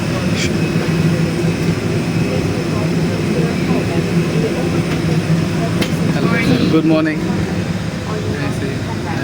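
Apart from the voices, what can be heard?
airplane cabin interior noise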